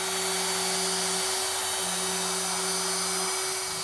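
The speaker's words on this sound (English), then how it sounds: "The first cuts I'll make with my CNC machine is to use a very tiny milling bit to cut the slots for the frets in the fretboard blank." A CNC machine spins a tiny milling bit to cut fret slots in a fretboard blank, a loud, steady high whine with a hum beneath that briefly changes tone as the cut shifts, with no talking.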